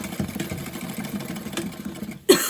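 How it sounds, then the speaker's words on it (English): Sewing machine stitching fabric for a bag, a close, steady rapid whirring hum that stops abruptly near the end with a brief clunk. "pulling that leftover piece backwards behind my needle, and then stitching right over it"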